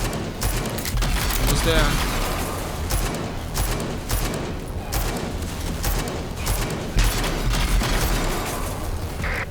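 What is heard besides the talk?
pistol gunfire in a video game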